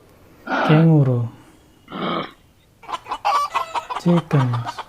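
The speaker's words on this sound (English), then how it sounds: "chickens" Chickens clucking and squawking close by: a loud drawn-out squawk, a second shorter call, then a rapid run of choppy clucks, with no talking.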